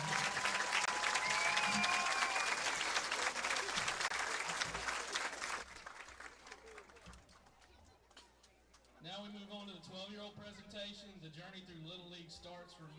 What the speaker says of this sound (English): let's give all these teams a round of applause